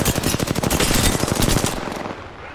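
Rapid automatic gunfire in the Apex Legends video game, a loud dense burst of shots that fades out toward the end, with no talking.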